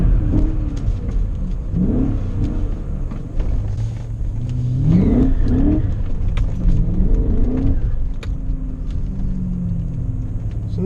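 A BMW M5 turning around, its engine revving in rising and falling surges over a steady low rumble, loud and close, with tyre and road noise beneath.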